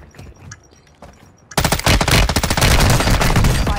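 Loud video game gunfire erupts suddenly after a quieter stretch, sustained rapid automatic bursts with dense overlapping shots filling the rest of the moment.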